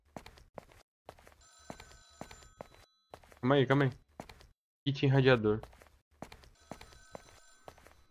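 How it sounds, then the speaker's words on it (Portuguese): In the horror game Sinister, a telephone rings repeatedly at a moderate distance, its bell-like trill recurring alongside footsteps while someone speaks briefly over it. "O telefone tá tocando."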